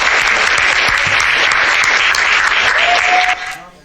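A live podcast audience gives loud, dense applause and cheering that stays steady for a few seconds and then starts to fade, with no clear talking.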